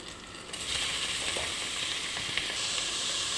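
Mushrooms sizzle and fry in a pan as they brown for a creamy white pasta sauce, a steady close hiss with faint stirring scrapes throughout.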